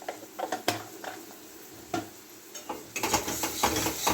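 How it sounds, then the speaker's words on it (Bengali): Spice masala with ground coriander stirred in a cooking pan, a spoon scraping and clinking against the metal in irregular light taps, louder and busier toward the end. "দিয়ে মশলাটাকে ভালো করে নেড়ে নেবো"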